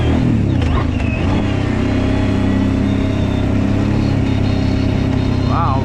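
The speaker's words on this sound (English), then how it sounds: "Let's see if I can pop this wheelie up and slam it." A Kawasaki Brute Force 750 ATV engine rumbles loud and close, revving for a wheelie over rocky ground, with a person's voice faintly mixed in.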